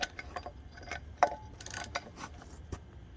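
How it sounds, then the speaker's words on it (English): Sharp metallic clicks of a ratchet working on a stripped BMW lug bolt, several uneven ticks spread across a few seconds with one louder snap near the middle, close and fairly quiet with no voices. "I'm gonna try the old jack handle and ratchets"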